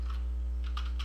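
Computer keyboard keys tapped while code is entered, a few light clicks over a steady low electrical hum.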